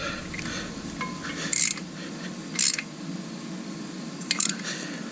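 A wrench snugging a brake line fitting during a front and rear brake job on a 1997 Jeep Wrangler TJ gives three short, sharp metallic creaks and clicks spaced over a quiet, faintly humming workshop background, with no speech.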